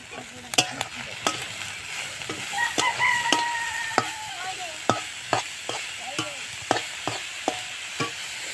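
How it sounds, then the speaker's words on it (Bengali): Khesari greens frying in a pan, a steady close sizzle with sharp stirring clicks and scrapes at irregular intervals, and a faint rooster crow in the background. "দেখো, শাকটা বেশ আমার ভাজা ভাজা হয়ে গেছে।"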